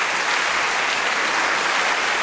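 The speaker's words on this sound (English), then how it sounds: "A round of applause for both our men." A theater audience at a stage mentalism show applauds two volunteer men. The clapping is a continuous, dense wash that holds at a steady loudness throughout.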